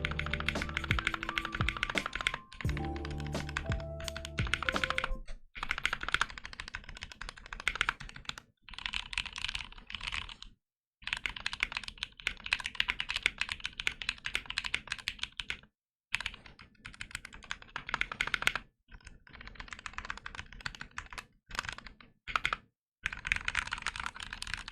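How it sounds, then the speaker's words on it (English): A Tofu acrylic keyboard fitted with lubed 67g Zealio V2 switches is typed on at length, dense runs of crisp clacks broken by brief pauses, close and clear with no voices. "since we already did a typing test on it and sound."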